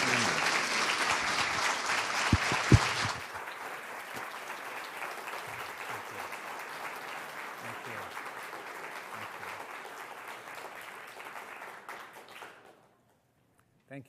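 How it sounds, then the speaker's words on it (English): Sustained audience applause for Dr. Samir Osmanagich at a morning talk on the Bosnian pyramid, loud and dense at first, then settling into steady clapping that fades out after about twelve seconds. "let's give a tremendous round of applause to Dr."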